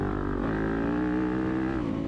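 Dirt bike engine racing in a sprint enduro in Springville, Alabama, a loud, steady close-up drone with a pitch that rises and falls slightly as the rider holds and shifts gears, heard alone.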